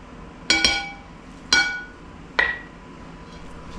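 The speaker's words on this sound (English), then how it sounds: "Scrape this honey out of here." A utensil scraping honey from a jar strikes the glass three times, each a sharp ringing clink about a second apart, close and fairly loud with a short decaying tone.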